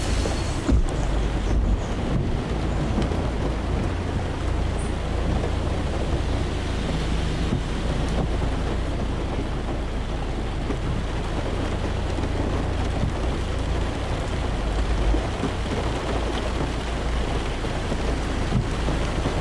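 Steady, dense rain pours continuously with heavy low rumble and wind buffeting the microphone, no voices.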